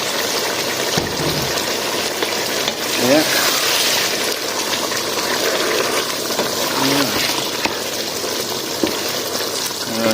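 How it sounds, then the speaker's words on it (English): Water poured into a pot of okra beef stew, a steady gushing splash running for several seconds with a brief voice over it. "Alright, it's time to add the water. I'm gonna pour water."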